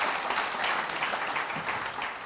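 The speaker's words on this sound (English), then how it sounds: "Please, a round of applause for every stakeholder." Audience at an NGO week event applauds the stakeholders with dense, continuous clapping from a large crowd, steady and even throughout the short burst.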